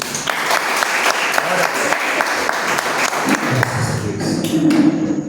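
Church congregation applauding, steady dense clapping with a few sharp claps standing out, continuing for several seconds and fading slightly toward the end.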